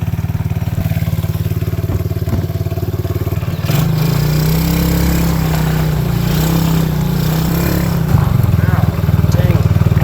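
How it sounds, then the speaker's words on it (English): A small pink quad bike engine runs steadily up close, a low droning motor note that rises and strengthens midway as it pulls away, with some clattering and thumps over the top. "Gonna take my little pink quad for a ride."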